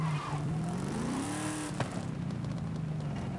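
A video game truck's engine drones steadily, its pitch rising then falling back, with a crackly exhaust and a brief sharp pop partway through, heard alone without talk.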